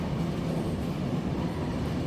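Steady, moderately quiet rumble of a train rolling through the Araku valley, a dense low roll with no voices over it.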